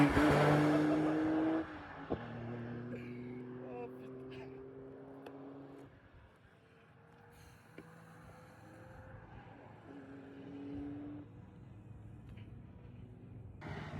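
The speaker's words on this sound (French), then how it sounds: "Bon les gars, il y a deux Porsche de course là," Two racing Porsche cars at Andermatt pass by, their engine drones rising and falling in pitch at a moderate distance, while voices talk over the motor noise.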